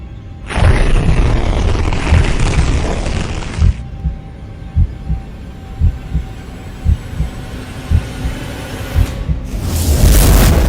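A portal bursts open in a fantasy audio drama, with bone and flame. A dense roar swells and holds for several seconds, then heavy rhythmic booms pulse like a throbbing heartbeat before a final bright surge.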